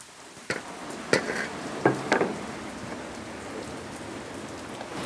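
Chicken is mixed by hand with coconut oil and vinegar for a village-style chicken dish: a few sharp wet slaps and squelches over a steady soft hiss, close by.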